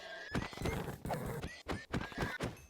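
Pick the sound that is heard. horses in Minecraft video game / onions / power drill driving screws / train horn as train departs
horses in Minecraft video game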